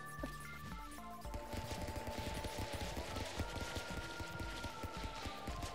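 Rapid gunfire in a video game rattles on steadily, dense overlapping shots mixed with game music and effects, loud and continuous with no pauses.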